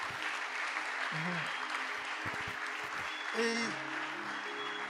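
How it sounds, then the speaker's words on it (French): A church congregation at a Sunday thanksgiving service applauds and cheers for the doctor, steady dense clapping filling the room throughout, with voices and a brief speaking voice mixed in. "Est-ce qu'on peut acclamer pour le docteur?"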